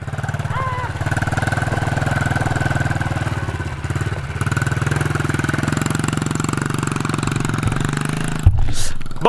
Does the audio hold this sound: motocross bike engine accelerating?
yes